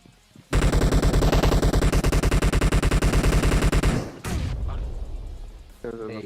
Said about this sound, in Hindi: दोबारा से गोलियां चलना चालू हो जाती है